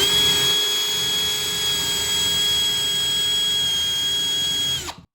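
A power drill with a 4.5 drill bit runs steadily at high speed, boring a pilot hole through the center of a 1.5 inch wall stud with a constant whine, then winds down and stops near the end.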